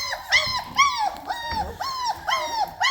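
Young puppies whimpering and whining in a rapid series of high, rising and falling cries, close and clear, with faint low rustling beneath.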